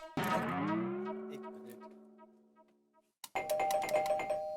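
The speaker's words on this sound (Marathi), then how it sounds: "अरे भाई, बेल तो चालू है ना?" A doorbell chimes once with a long, ringing ding-dong that slowly fades, then a second electronic chime sounds near the end, close and clear.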